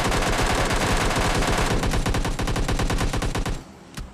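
Rapid automatic gunfire erupts in a video game shootout, a loud, continuous burst of closely spaced shots that keeps going for several seconds before cutting off, followed by one fainter pop.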